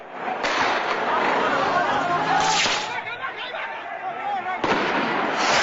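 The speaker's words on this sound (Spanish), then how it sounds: "Otros usan camaretas y petardos para atacar." Firecrackers and homemade explosive devices crack at a street protest in Quito, several sharp bangs over a loud, continuous roar of crowd noise, with voices chattering throughout.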